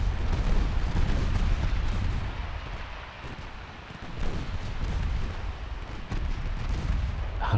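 Heavy naval main guns of battleships firing in a naval warfare video game set in an 1895 campaign battle, a dense, continuous rumble of booming salvos and blasts, loud throughout with a brief dip in the middle.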